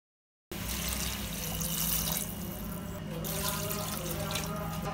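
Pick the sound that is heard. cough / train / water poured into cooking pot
water poured into cooking pot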